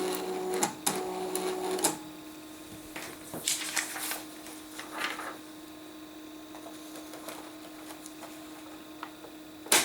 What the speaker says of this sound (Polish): Możemy sobie zobaczyć jak drukarka przechodzi test.